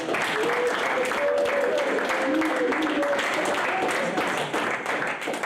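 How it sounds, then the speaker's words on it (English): Audience applause at an exercise science senior symposium, continuous dense clapping throughout with voices and cheering mixed in, steady and fairly loud. "let's give him another round of applause"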